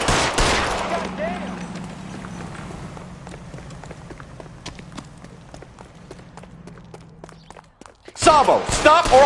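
Gunfire in the L.A. Noire video game: after a loud opening burst, a rapid string of sharp cracks and footfalls under steady background game noise, ending in another loud blast.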